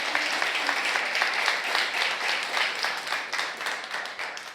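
A church congregation applauds during a sermon, a broad, sustained roar of many hands clapping together at moderate volume, slowly easing off toward the end.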